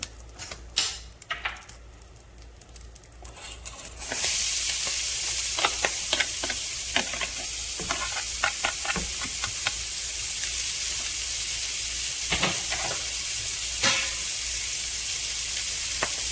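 Onions dumped into a smoking-hot pan with a teaspoon of oil burst into a loud, steady sizzle after a few seconds of light clinks, with scattered stirring scrapes and taps in the ongoing hiss.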